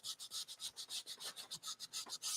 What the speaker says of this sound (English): So I'm just kind of sanding back till we get to the dark color underneath.